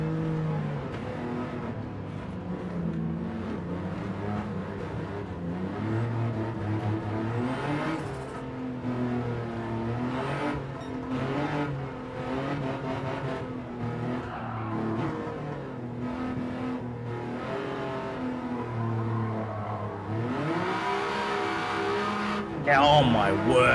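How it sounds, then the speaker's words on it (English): Turbocharged race car engine in Gran Turismo 7, a continuous loud drone rising and falling through gear changes with turbo whooshes and brief tire squeal near the end, while a person talks over it. "it's got the turbo whooshing noises, right?"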